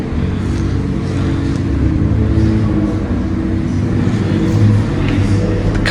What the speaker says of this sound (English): So the cars are just leaving now